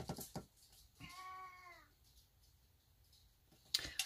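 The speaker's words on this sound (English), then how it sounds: "that's the other cat" A single drawn-out cat meow, fairly close and clear, rising and falling over about a second against faint room noise, with no talking.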